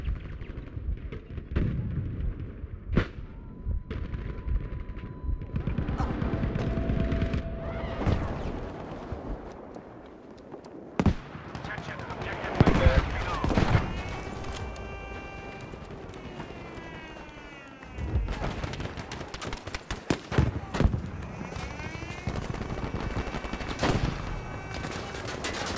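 Battlefield V gameplay with repeated gunfire bursts and sharp shots, some loud and close, others fainter, mixed with footsteps, explosions and in-game clatter throughout, with occasional voices in the background.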